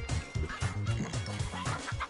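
Chickens clucking in the co-op video game Moving Out 2: rapid, clustered clucks and squawks repeat in a busy, bouncy rhythm over game sound.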